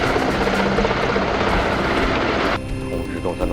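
Helicopter flying in an aerial combat scene from a Chinese TV drama with a terrorist raid on a tank base, a loud steady rotor and engine roar filling the whole clip, with the tone shifting near the end under a voice.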